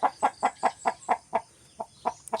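Chickens on a farm clucking while being fed, a rapid series of short clucks in an even rhythm, close by and fairly quiet, with no talk over them.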